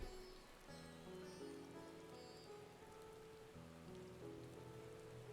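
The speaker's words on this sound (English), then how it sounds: "We're rocking really slow in the rain." Rain pattering steadily on surfaces in the Final Fantasy XIV game, a constant hiss heard alone beneath sustained musical tones.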